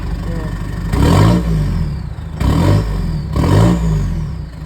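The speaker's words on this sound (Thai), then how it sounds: "โอเคสตาร์ทฟังเสียงเครื่องค่ะ ท่อจะมีความ ซิ่งหน่อยนะคะ" A 2015 Isuzu D-Max 2.5 pickup with a sporty exhaust revs three times. The engine rumbles loudly with a deep, throaty note that swells and falls back to idle between revs, and no one speaks.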